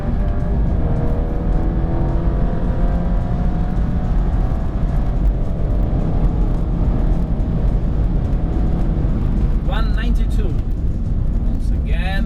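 Stage 3 tuned Alfa Romeo Giulia with a stock exhaust, 200-cell catalysts and no OPF, accelerating hard in a straight line, engine rising through the gears with a loud, close in-cabin roar and sharp shift breaks near the end.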